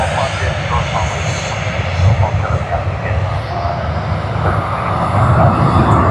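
Vietnam Airlines airliner engines at Sydney Airport give a loud, continuous roar that builds slightly toward the end, with a voice talking over the noise.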